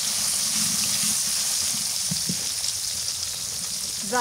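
Fish fries in a pan over a steady, even sizzle in a rural village kitchen during a storm, with a brief voice near the end.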